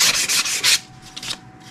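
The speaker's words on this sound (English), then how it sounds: "I'll just give it a light sand" Light sanding by hand on a wood veneer lamp part: a few quick, close rasping strokes in a steady back-and-forth rhythm, followed by a couple of softer, fainter passes.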